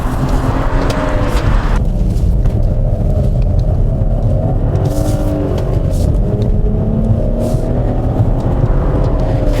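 A 2017 BMW X4 M40i with xDrive drives hard on a track, its engine droning steadily and loudly under constant road and wind rumble, with rising and falling tones as it accelerates.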